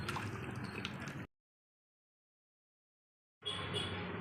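Mango pieces are swished and rinsed in a bowl of salted water for pickle, in two short splashing bursts separated by a stretch of silence.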